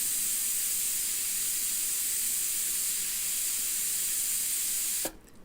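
Steady, loud airbrush hiss of air blowing with no paint, continuous for about five seconds before cutting off abruptly.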